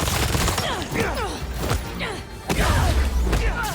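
Dense turret gunfire in the video game Spider-Man 2 keeps up continuous rapid bursts with crashing impacts and thuds, loud and busy throughout.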